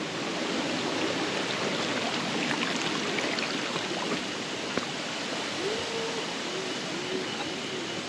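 A forest stream just crossed on foot rushes steadily nearby, a constant wide hiss of flowing water with no talking.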